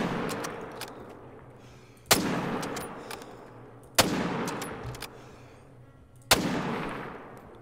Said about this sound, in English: We're going to be pulling out the 30-06 and just take a shot with that.